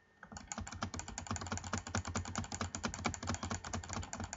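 Rapid, steady clicking of a computer keyboard during a gaming session, close and fairly quiet, with keys tapped in quick irregular bursts and no talking.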